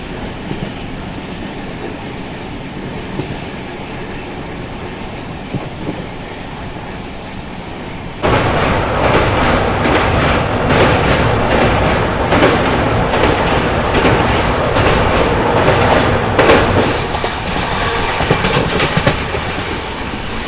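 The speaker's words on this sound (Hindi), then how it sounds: "ये देखो फुल एक्शन में है डीजल लोकोमोटिव, एकदम धुआं उड़ाते हुए" A diesel locomotive hauls the Palace Queen Humsafar Express, a steady rumble that jumps abruptly louder partway through into close, rhythmic clattering of wheels over rail joints that continues to the end.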